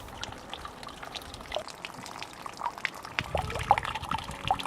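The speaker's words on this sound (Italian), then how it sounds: "Numerose sono le sorgenti e i minuscoli corsi d'acqua di origine glaciale che in superficie segnano il paesaggio dei colli morenici." A small glacial stream trickles and dribbles through the moraine hills of Friuli, a soft, steady wash of water that grows slightly louder and busier toward the end, with no voices.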